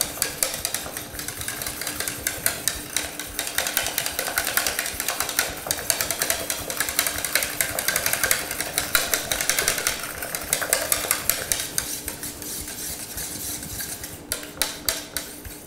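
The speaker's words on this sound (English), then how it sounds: "continue whisking it until I see that it's completely" A whisk scraping steadily around a pan of thickening sauce pulled off the heat, a dense run of quick metallic clicks and swishes that continues unbroken at close range, with no talking.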